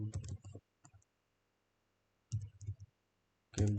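Clusters of quick, close keystrokes on a computer keyboard come in short bursts with quiet pauses between them.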